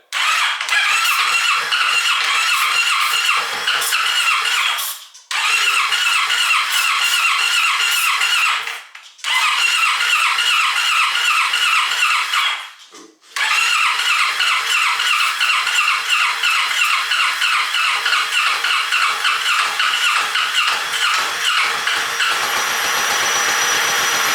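A Kawasaki Ninja 650 motorcycle engine, after sitting five years and primed with starting fluid, cranks and catches, running loud and rough with a few brief cutouts before settling into a steady idle.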